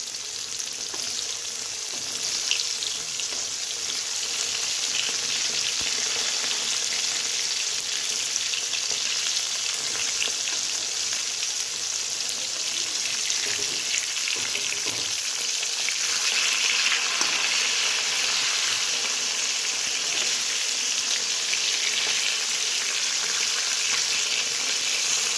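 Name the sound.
bhetki fish frying in oil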